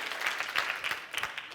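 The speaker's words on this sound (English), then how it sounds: "Let's give everybody giving a testimonial a round of applause now." Applause from a seminar audience at a wealth-building summit, soft and somewhat distant, a steady patter of clapping across the whole moment with no voices over it.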